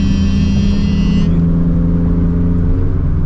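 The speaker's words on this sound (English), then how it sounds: "this car does actually have a little bit of road noise because I am on the R888R tires all the way around" Inside a turbocharged Toyota FR-S with a built FA20 engine and R888R tires, a steady low road roar and tire hum fill the cabin, with no speech.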